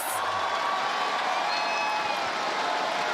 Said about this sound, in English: you can hear some excitement in the crowd.